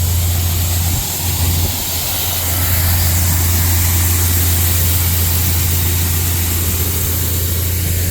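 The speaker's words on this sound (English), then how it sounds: "Sounds like it's almost like rocks going through the auger, those little chickpeas." Grain auger unloading chickpeas into a bin at the end of harvest, a steady, loud mechanical drone with a low engine hum and a continuous rattling wash like small rocks running through, unbroken throughout.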